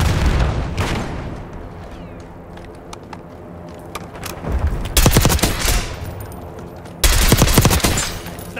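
Gunfire in the video game Call of Duty: Black Ops 6, with loud automatic bursts and single shots close by, rapid rattling volleys recurring across a noisy battle soundscape.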